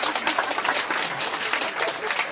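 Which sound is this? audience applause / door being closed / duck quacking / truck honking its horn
audience applause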